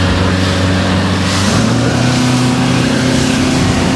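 A motorboat turns on a choppy sea off Crimea, its engine droning loud and close with a shift in pitch midway, spray and wind rushing throughout, no voices heard.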